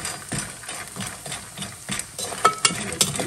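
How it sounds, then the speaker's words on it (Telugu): Small urad dal vadiyalu fry in a little hot oil and are turned in the pan, a close, rhythmic series of scraping strokes over a soft bubbling hiss, with a few sharper clinks near the end. "కొంచెం ఆయిల్ కాగిన తర్వాత ఇలా వేసేసుకోండి. వేయించుకోండి."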